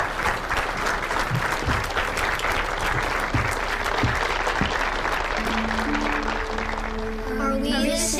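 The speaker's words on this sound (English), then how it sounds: "A round of applause," Steady applause from an audience fills the whole stretch, evenly sustained, with a few low voices and a faint tone emerging near the end.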